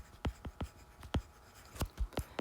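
Pen strokes on paper as coordinates are written out by hand during a maths lesson, a series of quick scratchy taps and short strokes in an irregular rhythm, close and fairly soft with no talking.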